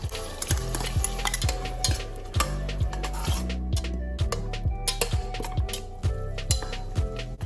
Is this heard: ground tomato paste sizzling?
yes